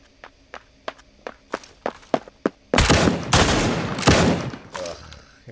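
Gunfire from an A12 weapon in the video game Badlanders: a string of distinct footstep-like thuds, then a loud, sustained burst of rapid automatic shots that stutters and continues to the end.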